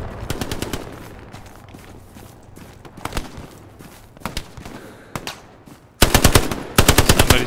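Machine gun fire in the WWII shooter Hell Let Loose, rapid bursts of automatic shots, some distant and scattered, then loud close sustained rattling toward the end.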